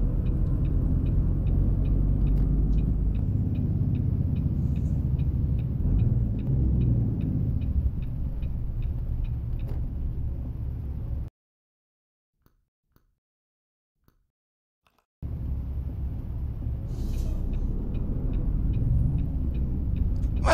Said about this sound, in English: we've kind of got a PACCAR MX-13 500 horsepower under the hood